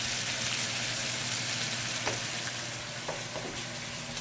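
Onions frying in a hot pan give a steady, close hiss of sizzling oil, broken by a few faint clicks from stirring.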